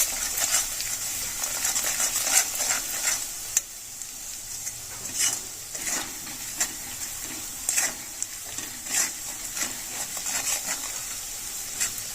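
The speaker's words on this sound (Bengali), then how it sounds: "এতে ভালোভাবে এটা কষিয়ে নেব।" Spice masala of cumin, chilli powder, salt and turmeric sautés quietly in a pan, with a low sizzle and frequent light scrapes and taps of stirring.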